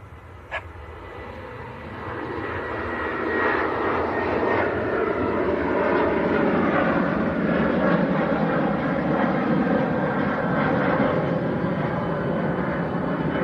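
An aircraft departing Manchester Airport builds into a loud, steady engine roar after a brief click, sustained and broad without talk.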